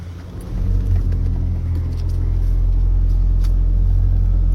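Toyota Corolla Cross hybrid SUV started with its push-start button, a low engine rumble that rises after a second and settles into a steady idle, close and loud, with faint clicks above.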